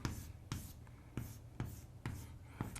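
Chalk or a marker writes a truth table on a board, leaving a run of quick, close taps and short scratchy strokes at a regular, unhurried pace.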